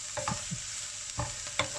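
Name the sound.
tempering spices sizzling in oil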